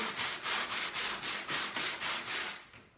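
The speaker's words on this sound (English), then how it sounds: "I'm just going to go over the whole thing and sand mostly where I have the actual salt wash" Sandpaper is rubbed back and forth over painted wood furniture in quick, even strokes, about nine scratchy passes in three seconds, close and clear with no voices.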